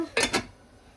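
A lid is set on a pot of mixed vegetables on the stove, two quick metallic clanks close together, close by and alone, then quiet.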